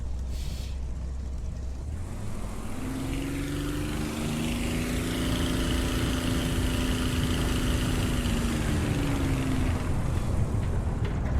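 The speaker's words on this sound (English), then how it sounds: "And then past that, you hear the roar of the engines." Roar of a de Havilland Mosquito's twin piston engines heard from inside the cockpit in War Thunder, a steady loud drone with a wavering tone that holds throughout without any talk.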